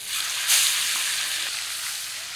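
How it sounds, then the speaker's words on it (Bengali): A tail piece of boal fish fries in hot mustard oil in a wok, giving a steady hiss that swells briefly into a louder burst of sizzling before settling. The pan sounds slightly distant, with no voices. "এই পিসের সাথে লেজাটা ভাজবো।"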